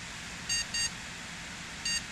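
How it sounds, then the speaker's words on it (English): Short high electronic beeps from a Compaq Deskpro EX computer at startup: two quick ones close together, then a single beep a second later, over a soft steady hum. "In a minute we should hear 2 beeps."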